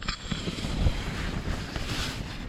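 Night wind on a campsite inside a volcano, buffeting the tent and the microphone with a steady, fairly faint rushing roar that swells and eases in gusts, with no voices.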